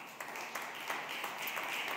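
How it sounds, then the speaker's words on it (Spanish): Congregation at a Sunday church service breaking into steady applause, a continuous wash of many hands clapping at moderate distance, fairly faint, with a few voices mixed in. "Den un aplauso a Cristo."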